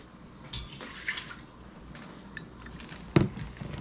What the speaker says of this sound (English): Put a cup to a cup and a half of water in it.